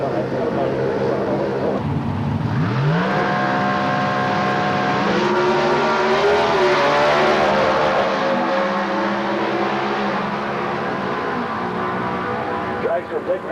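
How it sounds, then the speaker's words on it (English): A C-class dragster at an NHRA drag race in Gainesville roars down the strip, a loud engine note climbing in pitch, then holding a steady high drone and fading as it passes. "Dragster Dick Maris here in the C dragster category runs 785 at 138 into that."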